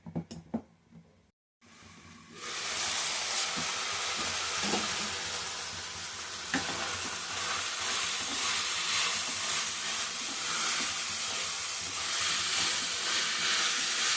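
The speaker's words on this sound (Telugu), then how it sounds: "పచ్చిమిర్చి, కాలీఫ్లవర్ ముక్కలు కొంచెం మగ్గనివ్వాలి" Green chilies and cauliflower pieces cook in oil for a curry. A steady, close sizzling hiss starts after a brief clatter and pause, then carries on evenly to the end.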